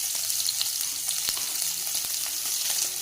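Onions, beans, green chilli, tomato and potato going into hot oil in a frying pan for potato kurma, giving a continuous bright sizzle with a few small pops, close and fairly quiet, no voices.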